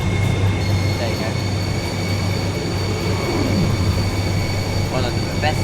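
Train in the Transport Fever 2 game rumbling along steadily and loudly with a low continuous roll, faint wheel squeals and tonal hums, while someone talks over it.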